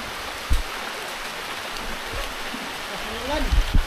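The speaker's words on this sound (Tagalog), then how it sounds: "Lumakas ang ulan." Steady heavy rainfall at a tree house construction site, a broad hissing wash, a few sharper thumps and a brief voice-like sound near the end.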